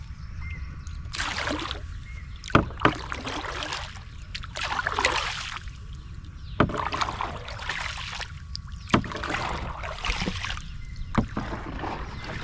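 A paddle dips and pulls a small fishing boat through water in repeated strokes every couple of seconds, each a close splash and swirl with trickling and sloshing between them, no talking.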